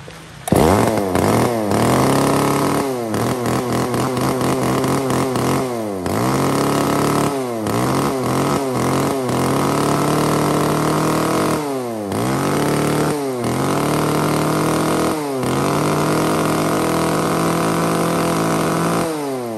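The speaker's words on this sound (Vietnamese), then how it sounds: "một con máy cưa Echo Curis 3300" An Echo Kioritz 3300 chainsaw engine running loud and close, repeatedly revved up to a high whine and dropped back to a rough idle, with no talk.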